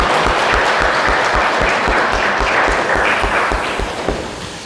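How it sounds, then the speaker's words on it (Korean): A church congregation at a Sunday daytime service claps to welcome a visiting elder and his wife, a brief, loud, close round of applause that fades slightly toward the end. "우리 환영의 박수로 한번 환영하겠습니다"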